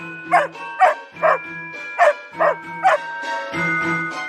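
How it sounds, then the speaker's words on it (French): A dog barks energetically in a quick series of about seven sharp yips, close by, with a short pause before a final longer, muffled sound. "aboyant avec énergie"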